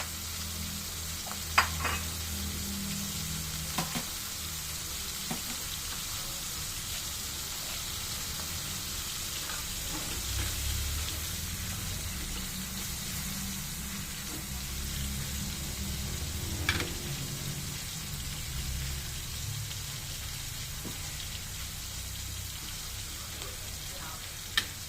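Bagoong alamang shrimp paste sautéing in a pan, giving a steady broadband sizzle with low rumbling underneath and a few sharp clinks of a utensil scattered through, constant and fairly close throughout.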